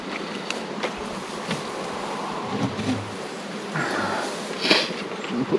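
Honeybees buzz around a hive being moved to heather moorland, a faint, continuous hum with individual bees droning past close by, over outdoor background noise.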